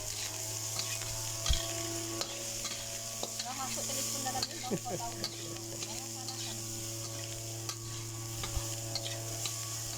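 Nasi goreng with soy sauce and sesame oil frying in a pan, stirred with a utensil: a steady sizzle under faint scraping and clinking of the spatula against the pan, with a brief stretch of casual talk in the background.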